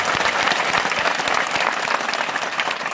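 Dense applause fills a temple ceremony, with many hands clapping steadily and loudly for the full stretch.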